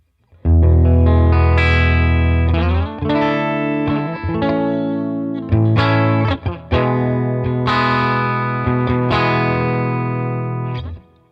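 Distorted electric guitar playing chords and riffs through an AmpliTube 5 '57 Custom Deluxe amp model, steady and loud throughout with brief pauses between phrases.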